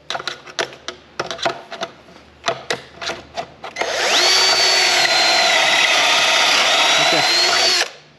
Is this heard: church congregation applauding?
no